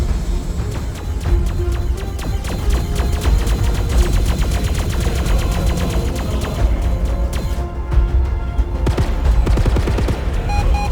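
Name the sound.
incoming enemy missile in a video game (Phantom Galaxies)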